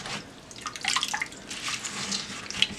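Water splashes and swirls inside a Ghanaian earthenware clay mortar (asanka) as it is washed clean of dirt and sand, a close, steady sloshing with brief trickles and light knocks.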